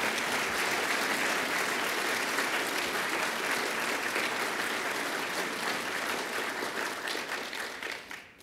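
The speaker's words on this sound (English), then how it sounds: "So can we give them a really thunderous round of applause?" Thunderous round of applause from a large conference audience, dense steady clapping filling the room for about eight seconds before tapering off at the end.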